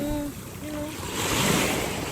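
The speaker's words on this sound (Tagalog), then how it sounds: "Pinapakinggan ang malakas na hampas ng alon" Broad rushing surf noise swells and crashes over a steady wind-like roar, with a faint tonal hum early on.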